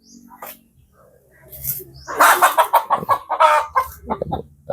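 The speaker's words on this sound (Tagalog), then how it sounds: "Yung manok." A hen clucks in a rapid run of short, loud pulses up close, with a few softer calls before and after.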